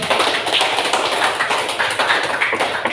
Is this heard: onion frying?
no